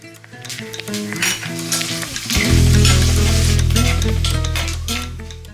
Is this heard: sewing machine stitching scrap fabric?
no